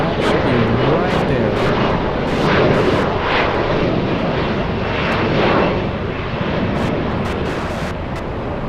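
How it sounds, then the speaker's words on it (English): An Air Premia Boeing Dreamliner lands at LAX with a steady, loud rumbling jet roar that stays continuous throughout, mixed with brief crackling and wind noise. "Air Premia South Korean Dreamliner, the second one of the day."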